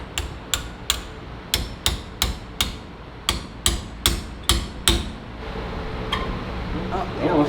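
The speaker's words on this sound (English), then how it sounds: "we tap that pin out with a hammer and a punch" Sharp metallic taps of a hammer striking a punch to drive out a Porsche brake caliper pin during a DIY brake job, about ten evenly spaced blows close up, then a brief pause and a couple of softer knocks with faint shuffling.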